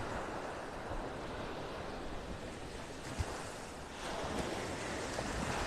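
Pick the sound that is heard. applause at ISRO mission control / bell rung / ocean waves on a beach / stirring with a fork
ocean waves on a beach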